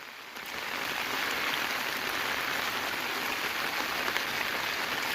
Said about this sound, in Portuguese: Quantos mil litros de água foi embora aqui nessa meia hora de chuva?